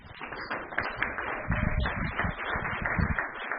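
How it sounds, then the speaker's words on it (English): Audience applause for speaker Christian Horn at a Nerd Nite Tokyo talk, a steady, close patter of many hands clapping with no voices heard. "So can I get a big round of applause for Christian Horn?"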